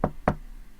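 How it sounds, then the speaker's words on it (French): Two firm knocks land on a door, evenly spaced about a quarter second apart, close and distinct, followed by quiet. "quelqu'un frappe à la porte"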